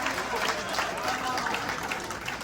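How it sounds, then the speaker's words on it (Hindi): A comedy show audience in New Delhi claps and applauds steadily for a couple of seconds, a dense patter of many hands with voices mixed in. "एक बार तालियां जोरदार मिलनी चाहिए।"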